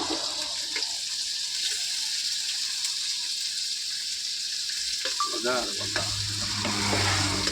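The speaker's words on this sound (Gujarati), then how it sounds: "ટમેટા ડુંગળીનું શાક વઘાર મારવાનું કામકાજ ચાલુ છે" Loud, continuous sizzling of spices hitting hot oil as tempering for a tomato and onion curry, crackling steadily; near the end a spoon clanks and stirs against the pan.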